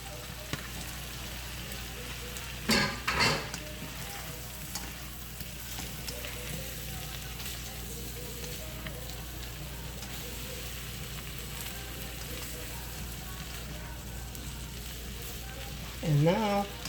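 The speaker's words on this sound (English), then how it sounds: "I'm going to go ahead and add the broccoli" Broccoli sizzles steadily in a hot pan with shrimp and garlic sauce, a continuous frying hiss throughout, with a couple of brief louder stirring clatters near the start and end.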